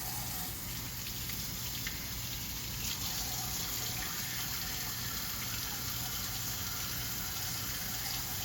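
Tap water runs steadily into a sink as hands are washed beneath it, a continuous hiss with a low engine-like hum in the background.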